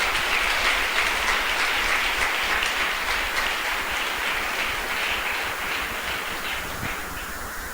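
A church congregation applauds steadily, a dense wash of clapping that slowly fades toward the end.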